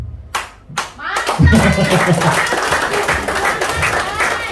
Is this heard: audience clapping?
yes